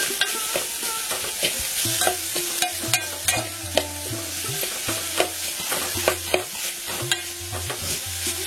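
A jaggery mixture with cardamom and raisins is stirred in a pan in a close, busy series of scraping strokes over a steady sizzle that keeps going the whole time.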